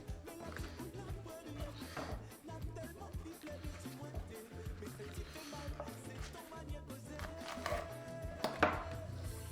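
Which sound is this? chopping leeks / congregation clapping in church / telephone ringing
chopping leeks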